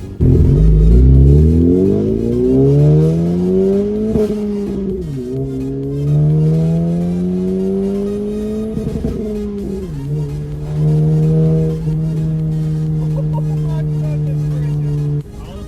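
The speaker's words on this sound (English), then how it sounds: "That exhaust is like incredible." A modified 2019 Honda Civic Sport engine revs hard and climbs in pitch, then settles into repeated rising revs with a loud, throaty exhaust drone, close by.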